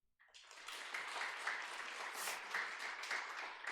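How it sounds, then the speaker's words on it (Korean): Church congregation applauding during a Sunday morning worship service, as clapping starts from silence and swells into a full, steady round of applause that holds across the whole stretch. "우리 모두에게 박수."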